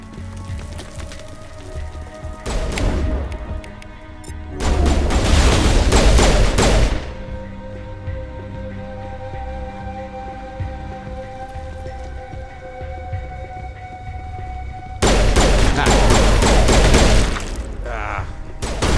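Bursts of video game gunfire fill the scene in three long volleys of rapid, loud automatic shooting, separated by quieter stretches of ambient noise.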